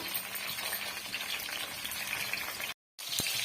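Brinjal sizzles steadily in hot oil in a pan, a dense crackling fry with occasional stirring scrapes, briefly cut to silence before the sizzle resumes.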